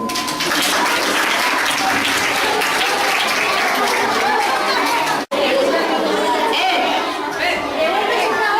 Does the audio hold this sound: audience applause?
yes